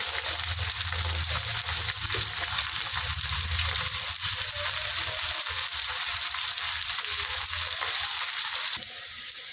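Potatoes frying in hot oil with turmeric in a pan, a steady, dense sizzle running throughout at close range, with faint stirring scrapes and no talk.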